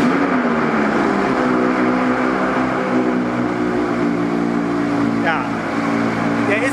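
An Audi R8 sports car engine running in an underground parking garage, a steady droning rumble with faint rising revs near the end, heard under someone speaking German.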